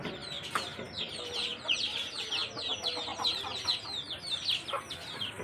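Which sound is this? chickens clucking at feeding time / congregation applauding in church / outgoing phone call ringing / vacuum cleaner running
chickens clucking at feeding time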